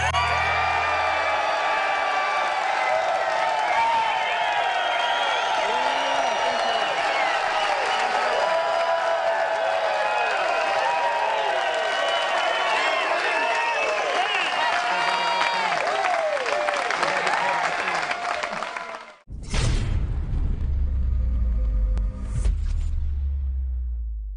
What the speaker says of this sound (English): Now listen to this crowd go nuts.